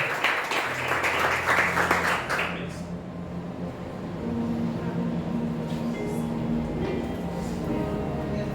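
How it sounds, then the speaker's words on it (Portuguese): A church congregation applauds during a worship service, a dense burst of clapping that fades out after a few seconds, followed by a low sustained hum and quiet murmuring. "Aplauda mais uma vez."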